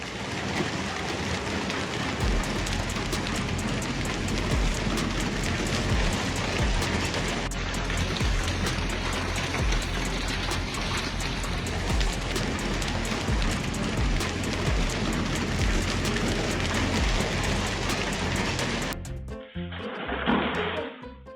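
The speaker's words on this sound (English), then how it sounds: "It's really hailing out there." A sudden hail storm pounds steadily outdoors, a dense continuous roar of hailstones striking surfaces that holds for about nineteen seconds before cutting off abruptly.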